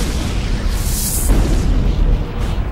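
A deep, sustained cosmic explosion effect for a supernova, a continuous loud rumbling roar with a brighter whooshing swell partway through, no voices.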